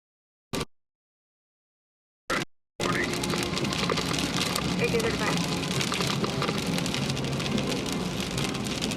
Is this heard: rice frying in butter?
no